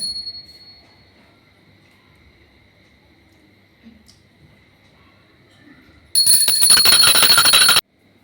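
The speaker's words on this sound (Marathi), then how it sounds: "घंटा ना" A hand bell rung during puja worship at home gives a loud, rapid ringing burst lasting about a second and a half after a long quiet stretch.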